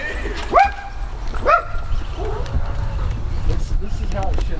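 Big dogs bark a few sharp times from a house nearby, with a whimpering yip between the barks, under ongoing talk and outdoor background noise.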